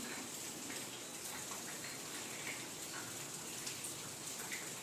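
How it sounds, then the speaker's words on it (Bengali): Steady rain falls outdoors as a faint, even hiss of drops that holds unbroken throughout, with no voices. "বাইরে তো বৃষ্টি হয়ে যাচ্ছে সমানে"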